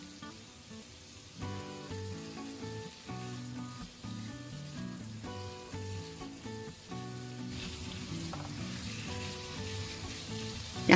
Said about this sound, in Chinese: 再翻炒均匀